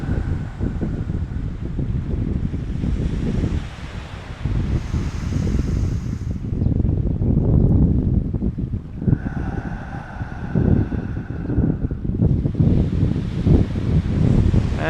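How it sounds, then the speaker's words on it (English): Ocean waves wash in and recede in broad, rushing swells, fairly faint and blended with gusty wind noise, no voices. "my breath syncs up with the sound of the waves"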